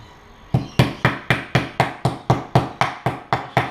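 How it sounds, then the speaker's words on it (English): A meat mallet pounds schnitzel in a kitchen, eleven loud, evenly spaced thuds landing at a steady rhythm close to the microphone, with no talking over them. "you start hammering meat, you'll find out that"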